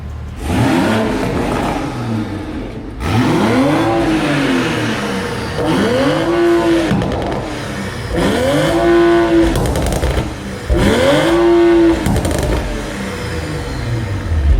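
A loud BMW M3 G80 engine with a carbon air intake revs repeatedly, climbing and falling in four or five sharp bursts with crackling anti-lag-like pops between them, close up.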